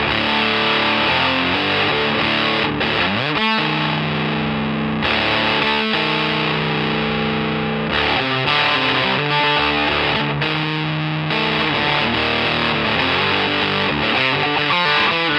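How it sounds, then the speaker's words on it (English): Heavily distorted electric guitar through a modified Boss HM-2 Heavy Metal pedal with the bass turned up, playing loud sustained power chords with a few short breaks and chugging strums, no voices. "with this modification to C12, it really becomes more like your usual distortion pedal"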